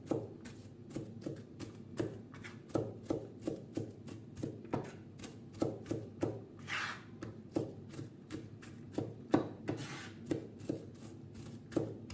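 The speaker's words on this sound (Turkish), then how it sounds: "soğanı ince ince yapmamız lazım ki güzelce erisin içinden" Knife finely chopping onion on a board, a steady stream of crisp rhythmic taps at close range, about two per second, with no talking.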